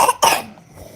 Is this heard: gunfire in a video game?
no